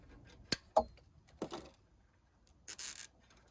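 A zip tie's excess tail is snipped off during a governor bypass on a Predator 212 engine: two sharp, close clicks, a few softer taps, then a brief bright rasping burst.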